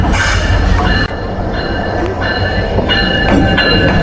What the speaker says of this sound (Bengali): 3021 নিয়ে প্রবেশ করলো লেট লতিফ কুড়িগ্রাম এক্সপ্রেস